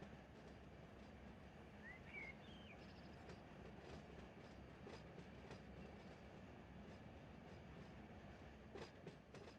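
In Run 8 Train Simulator, a simulated freight train on the Trona Railroad rolls steadily past a switch, with a continuous low rumble, faint rail clicks and brief high squeals, quiet and without talk.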